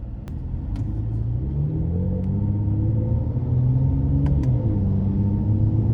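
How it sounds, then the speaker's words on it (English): A 2018 Mercedes-Benz C43 AMG Coupe's deep, throaty engine rumbles steadily and revs up slightly in Sport Plus mode with the exhaust opened up, loud and close, with a few faint clicks over it. "turn it up a notch and just put it in Sport Plus mode and open that exhaust up"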